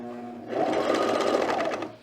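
A sewing machine stitches fabric along a basting line for an overlap V neck, a steady, fast mechanical whir that starts abruptly after a soft hum and runs close and loud until it winds down at the end.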